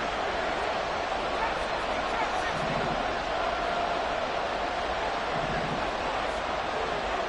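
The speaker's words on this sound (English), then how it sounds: "This crowd turning up the decibel level." A football stadium crowd roars steadily on a loud, dense wash of noise during a third-and-long play, with a few swelling peaks throughout.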